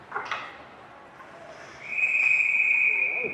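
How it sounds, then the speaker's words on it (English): A referee's whistle blows at an ice hockey game after the goalie smothers the puck on the ice, a sustained high shrill tone rising out of arena crowd noise and lasting over a second. "the goalie kind of squeezed it down on the ice and got a whistle"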